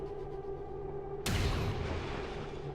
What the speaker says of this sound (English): I think we're going to get some overwatch fire on these guys